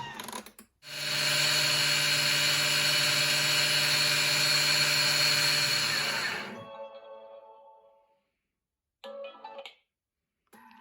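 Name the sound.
food processor milling at speed 10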